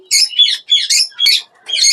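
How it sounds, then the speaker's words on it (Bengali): A green ringneck parrot at a parrot farm in Dhaka gives a rapid series of about five shrill, high chirping calls, loud and close with short gaps between them. "এটা হলো গ্রিন রিং নেক"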